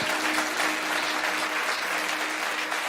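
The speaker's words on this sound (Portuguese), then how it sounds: "Você pode dar ao Senhor mais um forte aplauso." A congregation at a Brazilian church service bursts into strong, continuous applause for the Lord, a thick, even wash of many hands clapping without pause.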